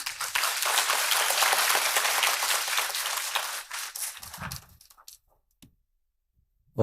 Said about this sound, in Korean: 회중들께서는 환영의 박수 부탁드립니다.